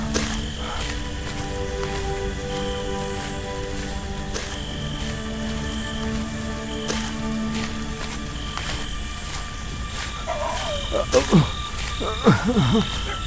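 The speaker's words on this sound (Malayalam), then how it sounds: "തവളയാ" Frogs croak in a dense chorus with insect trilling around them, steady throughout, and a few louder nearby croaks toward the end.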